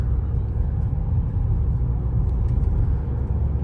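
A 2018 Volvo V60 with a 2.0 diesel engine and automatic gearbox gathering speed on the road, heard as a steady low cabin rumble and engine drone, fairly loud and unbroken, with no talking.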